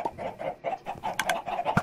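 A Minecraft chicken clucks in rapid, evenly spaced game-sound bursts on a server, with a few sharper clicks near the end.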